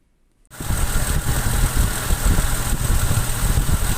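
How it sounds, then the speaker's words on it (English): A Jaguar 420 engine with tappet noise starts up and runs steadily, a loud, close, continuous mechanical drone alone without talk. "I'll include a video now of balancing a valve shim on the cylinder head when it's running."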